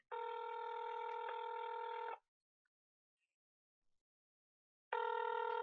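A telephone rings unanswered in two long buzzing bursts separated by a few seconds of silence, clear and close with nothing else over it.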